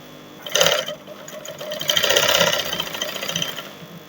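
A sewing machine stitches net lining for a party jumpsuit with a cape, running in two close bursts that each hum and rattle steadily, with no voices.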